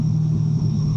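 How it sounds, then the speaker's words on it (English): A 750-horsepower supercharged C6 Z06 Corvette heard from the cabin on a ride-along, its engine giving a loud, steady low rumble that drones evenly with no talking over it. "I bet you all those people out there can hear your car."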